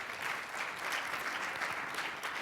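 A summit audience applauds steadily and densely for the full stretch, the clapping even and unbroken with no voices rising above it.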